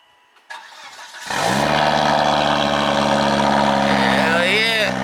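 A Volvo 2.5 turbo engine cold-starts close by: a brief crank, then it catches and settles into a loud, steady idle with a rising whine near the end.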